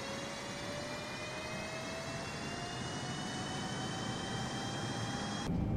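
Boeing 777-200ER jet engines spooling up in Microsoft Flight Simulator, a steady broadband roar with a slowly rising whine, moderate and even throughout, no talk.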